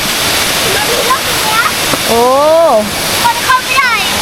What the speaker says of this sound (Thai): โอ้โหน้ำตก